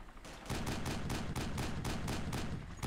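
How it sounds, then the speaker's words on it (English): Rapid automatic gunfire in a multiplayer shooter video game as players fire on AI enemies, a steady stream of about a dozen evenly spaced loud shots after a brief quiet start. "they're shooting the AI"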